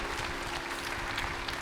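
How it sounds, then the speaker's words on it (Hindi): An audience at a yoga gathering breaks into hearty applause, a dense, continuous patter of many hands clapping at fairly close range, with a faint hum beneath. "एक बार जोरदार तालियां बजा दो भाई।"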